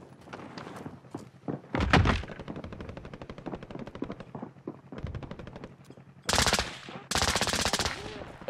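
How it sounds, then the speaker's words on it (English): Bursts of automatic gunfire in a shooter video game, rapid repeated shots coming in several loud volleys with short pauses between, some distant and some close, with a few single thuds between bursts. "Nope, they're shooting at me."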